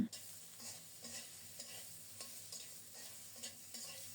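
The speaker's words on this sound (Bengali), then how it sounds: "আলুগুলোকে কিছুক্ষণ নেড়ে ছেড়ে ভেজে নিয়ে তারপর দেব স্বাদ মতো লবণ" Potatoes fried and stirred in a pan at home, with a faint, continuous sizzle broken by regular scraping strokes of a spatula at roughly half-second intervals.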